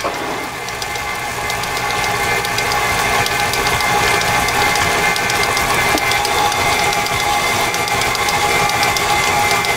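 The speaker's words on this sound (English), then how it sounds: "The reason for the KitchenAid is it just ensures everything is mixed all the way through." A KitchenAid stand mixer churns homemade sausage meat, its motor whirring loudly and steadily with a rhythmic mechanical gear clatter that runs unbroken throughout.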